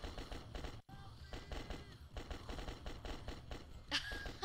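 Gunfire in the video game The Last Stand: Union City, a rapid run of repeated sharp shots at close range with a brief gap and a brighter burst near the end, fairly quiet.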